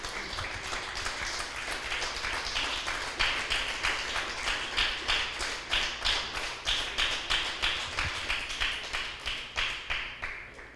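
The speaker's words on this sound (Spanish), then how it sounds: "Denle un fuerte aplauso" Church congregation applause, steady clapping throughout that settles into a rhythmic, evenly timed beat in the second half, moderately loud with a crowd murmur beneath.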